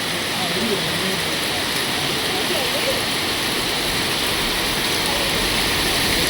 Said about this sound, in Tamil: ஐஸ் கட்டி மழை